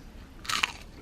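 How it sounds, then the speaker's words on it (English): A single close bite into a McDonald's chicken McNugget gives a brief, crisp crunch against a quiet background. "The sound for the McNugget."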